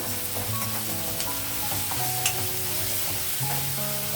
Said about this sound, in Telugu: ఇప్పుడు బంగాళదుంప బీన్స్ ఒకేసారి వేసేద్దామండి